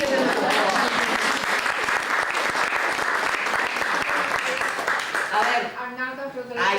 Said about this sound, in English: Let's give him a applause.